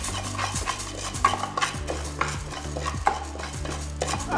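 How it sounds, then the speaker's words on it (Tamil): Steady scraping and stirring of toor dal, chana dal and urad dal dry-roasting golden in a dry pan, with light clinks of a utensil against metal and a faint rustle of lentils being tossed, no voices. "ட்ரை ரோஸ்ட்டு பொன்னிறமாக வறுக்கும் இந்த துவரம்பருப்பு கடலப்பருப்பு உளுந்த பருப்பு"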